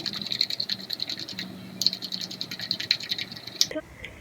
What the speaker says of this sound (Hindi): इतना फेंटेंगे कि झाग ऊपर आ जाए।